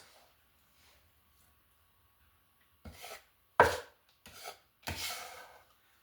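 A knife chops fresh tomatoes on a cutting board for pico de gallo: four short, separate bursts of firm chopping after a quiet stretch, close and fairly loud.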